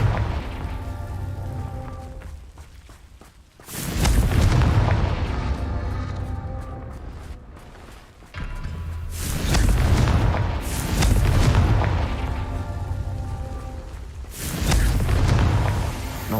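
Confringo blasting spell explosions in Hogwarts Legacy: three or four heavy booming blasts spaced several seconds apart, each a loud broadband burst with a rumbling tail, between stretches of quieter humming game music.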